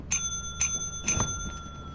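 A bell in the game Lethal Company rings three times in quick succession, each a bright, close metallic ding with lingering overtones, the last strike followed by a low thump.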